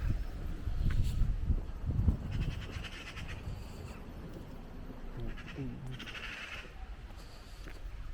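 Sheep bleating outdoors around a rural Irish village, a few scattered calls at moderate distance over steady wind and ambient noise, with no talking.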